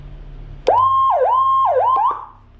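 A Whelen HHS 2200 siren module, with jumpers set, sounds a loud, close electronic siren: after a sharp onset, a steady tone dips and rises again in three quick whooping sweeps, then cuts off abruptly.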